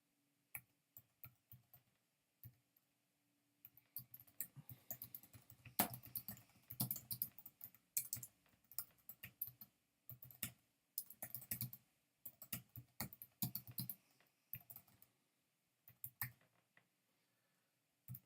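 Quiet keystrokes on a computer keyboard, starting with a few sparse taps, then settling into steady bursts of typing with short pauses between runs, close by and fairly soft, with no voices.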